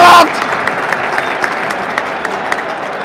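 A football stadium crowd at a Real Madrid versus Manchester City Champions League match claps steadily in a broad, distant wash of applause after a brief loud shout at the start.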